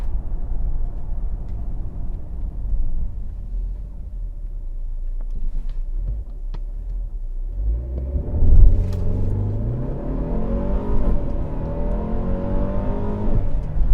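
A Mercedes-Benz GLE 350 SUV engine idles with a low rumble, then revs up and accelerates hard, the pitch rising through the gears, loud and close.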